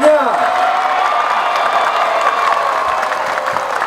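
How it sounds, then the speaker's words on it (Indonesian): A crowd at a shalawat religious gathering and halal bihalal celebration claps and cheers loudly and steadily, with sustained whoops and shouts blending into a dense, continuous roar throughout. "Jangan takut-takut atau malu-malu untuk ikut tepuk tangan"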